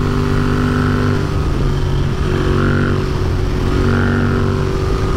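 A modified Royal Enfield Continental GT motorcycle being ridden, its engine droning loud and steady with a throbbing low rumble and slight rises in pitch as the throttle shifts.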